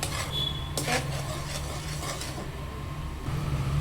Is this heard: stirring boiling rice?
yes